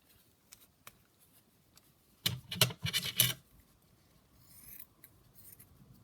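Scissors snip fabric scraps away from a seam for a junk journal, a short burst of several quick crisp cuts close to the microphone amid faint handling rustles.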